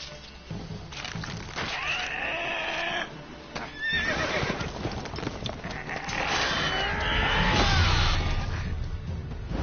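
Horse neighing and whinnying in Witcher 3: The Wild Hunt, with hoof clip-clop and game sounds underneath; whinnies rise around the middle and end, fairly loud amid a busy mix.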